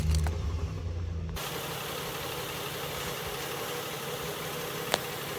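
A 2016 Nissan Frontier Pro-4X engine starting and idling just after an oil change, settling into a steady, even rumble that runs close by without any voices.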